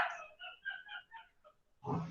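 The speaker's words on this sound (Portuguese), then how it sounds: "agora o da vizinha tá latindo junto." A neighbour's dog barks and yelps in a short, faint burst of several high yips, followed by a brief noisy sound at the end.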